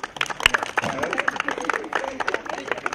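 Audience at a district youth competition event breaking into applause, a dense run of rapid hand claps from a hall full of people, fairly close and steady for the whole stretch.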